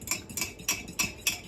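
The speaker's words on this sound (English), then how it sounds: "And then you kind of stir that with your fork already." A fork clinks against a mug while stirring chocolate mug cake batter, about five sharp metallic scrapes in a steady rhythm, close and fairly quiet, with no talking.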